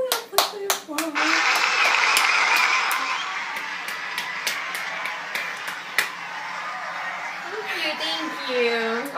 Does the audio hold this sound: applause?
yes